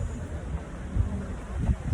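Strong wind blowing outdoors during an open-air sewing demonstration, heard as low, steady rumbling buffeting on the microphone with heavier gusts near the middle and end.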